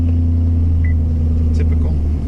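A Chevrolet Camaro with an air intake box mod idles steadily, a loud, low, even engine rumble close by that holds constant for the whole stretch.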